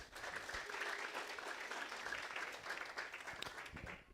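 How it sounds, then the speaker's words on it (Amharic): A church congregation claps together during a sermon, a steady, fairly quiet patter of many hands that holds throughout, slightly distant. "አጨብጭቡ ለዚህ ጌታ።"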